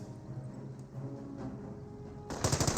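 A 30 cal machine gun fires in the Company of Heroes video game, a short burst of rapid, loud rattling shots arriving near the end after a quieter stretch of low battlefield ambience.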